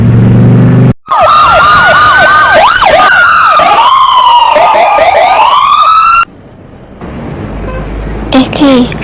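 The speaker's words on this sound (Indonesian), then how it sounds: "barusan tadi tuh ada mobil polisi sama ambulan anjir" Loud wailing sirens from a police car and ambulance in Sakura School Simulator, several overlapping rising-and-falling tones passing close by, then a sudden cut to quieter street noise.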